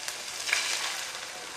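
Fish frying in a pan for Burmese fish soup noodles, cooked until golden; a steady, close sizzle runs throughout with no talking.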